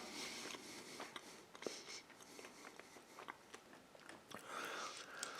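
Someone bites into and chews a banana-flavoured MRE Ranger bar up close. Soft irregular crunches and mouth sounds repeat over several seconds, with no speech.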